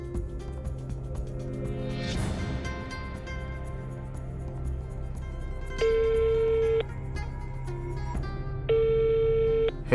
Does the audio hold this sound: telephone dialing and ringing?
yes